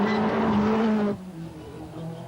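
A rally car at speed: a loud engine pass with strong harmonic whine for about a second, then cutting away abruptly to a quieter, distant rumble.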